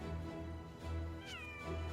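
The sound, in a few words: cat meowing in the video game Monster Hunter World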